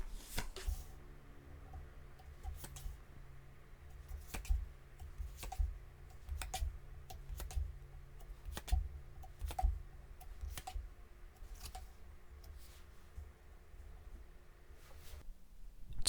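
Tarot cards are drawn and handled at a quiet table, making soft, scattered clicks and light card taps spread irregularly over a faint background hum, with no talking.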